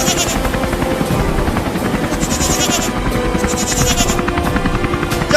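A cartoon helicopter hovering over floodwater while rescuing a stranded goat, its loud steady rotor chop close and continuous, with faint bleating mixed in and no talk.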